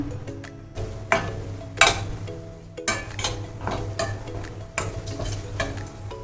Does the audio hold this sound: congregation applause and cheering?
no